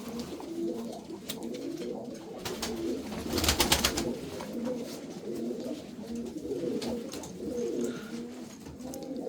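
Racing pigeons coo softly and continuously in a loft, a low rolling burble at moderate distance with a slightly louder flurry midway.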